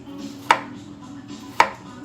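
A knife chopping through a chayote on a cutting board: two crisp, close thunks about a second apart, each alone against a quiet kitchen background.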